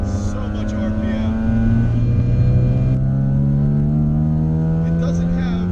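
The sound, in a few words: Nissan 300ZX engine revving at high RPM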